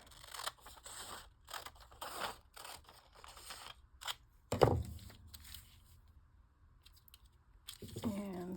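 Scissors cutting paper for a junk journal, a run of close, crisp snips and crunching cuts in an uneven rhythm, followed by a single loud snip and a short rustle.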